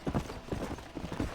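Horse hooves in Red Dead Redemption, a short burst of four or five close, dull clip-clop thuds in an uneven gallop rhythm.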